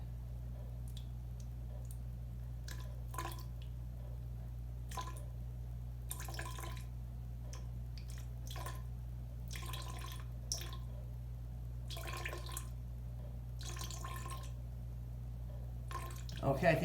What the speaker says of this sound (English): Now I'm going to trickle this on. This is torch fuel, and this has the least density.